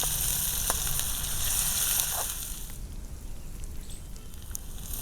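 Onions frying in oil on a village clay stove, a steady hiss and crackle of sizzling that carries on continuously and eases slightly toward the end, with no voices.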